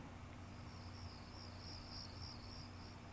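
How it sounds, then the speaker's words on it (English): Crickets chirping in a quiet night landscape near Sedona, a faint, steady high trill pulsing continuously over a low background hum. "Hear that? There's crickets."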